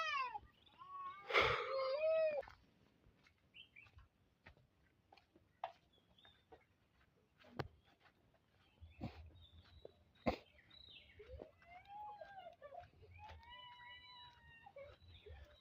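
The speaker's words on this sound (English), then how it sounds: "The only sounds we'll hear are from the birds singing." Birds in a quiet village call in scattered chirps, whistles and short trilling phrases, some near and sharp, others softer, separated by calm gaps with a faint low background rumble.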